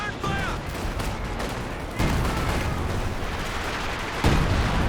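Artillery barrage in the video game Company of Heroes 2: sharp booming impacts land at intervals amid continuous battle rumble and distant gunfire, fairly loud and dense throughout.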